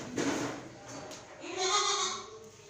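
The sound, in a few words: goat bleating at livestock market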